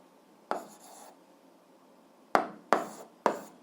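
A pen writes a math equation by hand on paper, with one scratchy stroke followed after a pause by three short, close, evenly spaced strokes in a quiet room.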